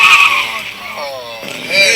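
A human voice imitates a car skidding to a sudden stop and crashing: a loud screeching squeal that wavers and bends in pitch, then flares up again at the end.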